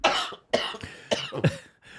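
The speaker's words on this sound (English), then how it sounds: "Now you're making me cough." Several harsh coughs in quick succession, close and fairly loud, with brief gaps between bursts.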